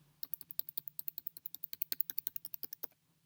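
Rapid, evenly paced keystrokes on a computer keyboard as a 16-digit credit card number is entered, about two dozen close, crisp clicks in a steady run that stops short, with no talking.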